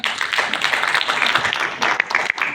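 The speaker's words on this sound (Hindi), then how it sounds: "इसके लिए भी एक बार जोरदार तालियां।" Audience applause at a college parliamentary debate final, a dense steady wash of clapping from a crowd lasting the whole stretch without pause.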